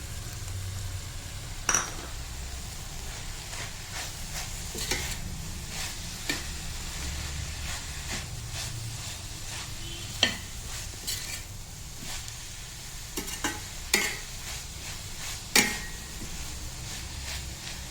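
A spoon scrapes and stirs bread upma with salt, turmeric and chili powder sizzling in a pan, with a steady frying hiss and occasional sharp clinks of metal against the pan.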